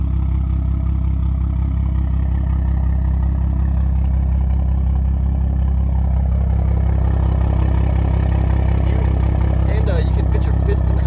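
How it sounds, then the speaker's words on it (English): A Toyota MK5 Supra fitted with a Tomei Type-R titanium single-exit exhaust idles close by, a steady deep rumble that holds level throughout with a faint rattle over the top. "You can hear the idle now and it just sounds so good"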